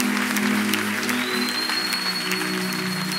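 A church congregation at a Sunday thanksgiving service applauds in steady, continuous clapping that fills the room, with a sustained tone and a background murmur running underneath.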